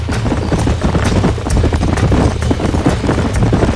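Horses gallop in the Western video game Red Dead Redemption, rapid overlapping hoofbeats pounding in a steady rhythm, loud and close over a low rumble, with no talk.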